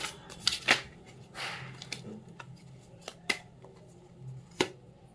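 Tarot cards being shuffled by hand, several quick riffling bursts and soft slaps of the deck, close and crisp with short pauses between.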